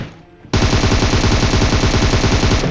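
Sustained automatic gunfire from a player in a shooting video game erupts after a brief quiet lead-in, a loud, rapid continuous burst of shots with a steady rattling rhythm, close and alone without talk.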